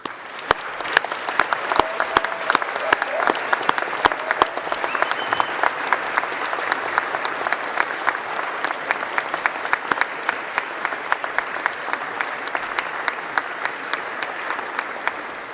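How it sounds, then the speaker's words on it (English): Graduation audience applause at a University of South Wales ceremony, a long sustained round of crowd clapping with sharp individual claps standing out, steady and fairly close. "Let us give them the applause they so richly deserve."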